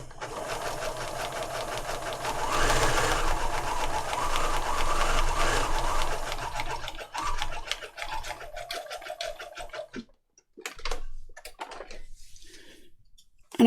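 A sewing machine stitches a wide zigzag in white thread on a fabric junk journal lapbook. It runs in a fast steady whirr for about seven seconds, then stops and starts in short bursts with pauses.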